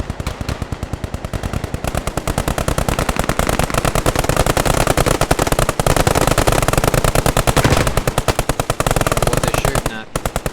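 Machine-gun fire in the World War II shooter Post Scriptum, long rapid bursts of automatic shots rattling almost without pause, loud and close, with a brief break near the end.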